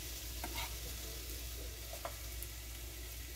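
Onions tossed into hot oil on low to medium-low heat, a quiet, even sizzle running throughout with occasional faint stirring clicks.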